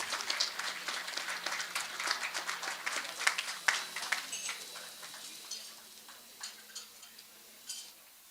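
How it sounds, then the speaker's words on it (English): Audience applause for His Excellency at a launch event on Kenya's drought situation, a steady patter of many hands clapping through the whole stretch, with a few louder claps standing out. "A big hand of applause to His Excellency."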